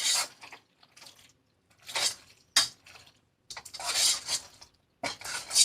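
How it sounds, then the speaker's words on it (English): A regular spoon stirs a creamy cheese sauce through macaroni in a pot, giving a close series of wet, squelching scrapes and clinks in irregular bursts with short pauses between. "Now we're going to get just a regular spoon. Stir through it."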